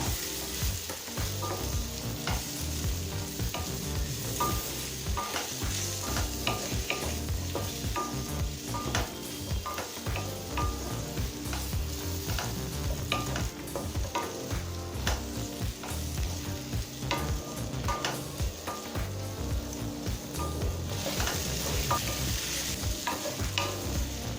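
Ivy gourd (kovakkai) stir-fried in a pan for a kovakkai fry: a steady, loud sizzle runs throughout, broken by frequent scraping and clinking stirring strokes, with no talking.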